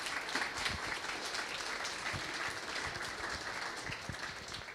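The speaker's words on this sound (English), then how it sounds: "Let's give one more round of applause for our esteemed panelists." A room of listeners applauds the panelists at the close of a venture capital fundraising panel, a steady, fairly faint spread of many hands clapping with a few sharper claps standing out.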